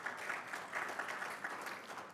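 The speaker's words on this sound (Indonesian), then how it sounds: "Tepuk tangan lagi bagi Tuhan Yesus." A congregation claps during a Sunday afternoon church service, producing a short, soft, continuous round of applause heard from a distance.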